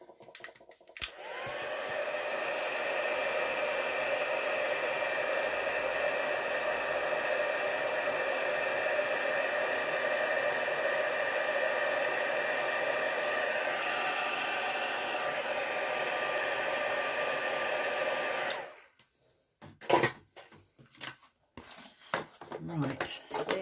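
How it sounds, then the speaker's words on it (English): A heat tool setting embossed stamped ink on card, a steady loud blowing whir running for about eighteen seconds before cutting off, followed by light handling clatter. "So I'll just heat set that,"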